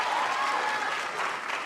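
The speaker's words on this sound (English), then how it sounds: "Can we also give a round of applause to our" An audience at a university graduation ceremony claps for a sign language interpreter, a broad, steady wash of applause filling the hall, moderately loud and continuous.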